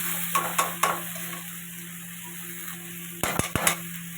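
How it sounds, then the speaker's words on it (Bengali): Kalmi (water spinach) greens sauté in a pan with turmeric, cumin and chili paste, a steady sizzle underneath a few scraping stirs early on and a cluster of sharper utensil knocks near the end. "দেখো দিয়ে এবার আমি শাকটা দিয়ে দিচ্ছি।"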